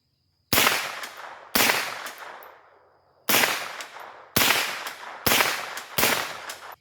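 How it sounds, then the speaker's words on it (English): Six loud, sharp carbine gunshots fired at targets, in an uneven series of single reports with short gaps between them, each followed by a brief echoing decay. "we'll put some more rounds on target down here"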